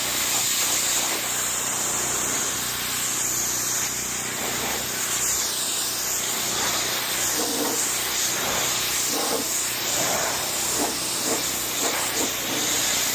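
Pressurized spray of soapy pre-rinse hisses steadily against a Mercedes GLC 300 AMG, a continuous broadband wash with faint rhythmic bursts as the stream sweeps across the body panels.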